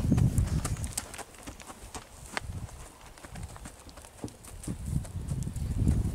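Hooves of a gaited blue roan horse clip-clop in an uneven, steady rhythm of sharp knocks at moderate distance, with low rumbling in the background.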